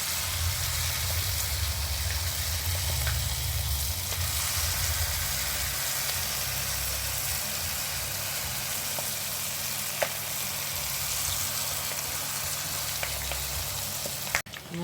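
Snack batter fries in a pan of hot oil, giving a steady, close, continuous sizzle and bubbling hiss that lasts throughout, with a clatter at the very end.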